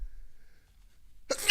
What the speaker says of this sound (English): I'm sneezing like a maniac.